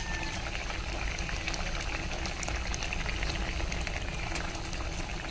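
A potato and mustard-paste fish curry bubbles steadily in a pot as bata fish pieces go in, a dense continuous simmering hiss and bubble close by, even in level throughout, with no speech.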